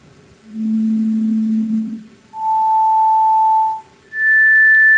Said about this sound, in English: now see what happens when we play individual tones